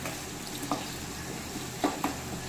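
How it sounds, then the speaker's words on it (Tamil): Garlic and tomato fry gently in oil, a soft, even sizzle broken by a few light scrapes of a spoon stirring them. Quiet and steady, with no talking. "பூண்டு வந்து எண்ணெயில் நல்லா வதங்கி வரட்டும். அது வரைக்கும் நல்லா கிளறி விட்டுக்கலாம்."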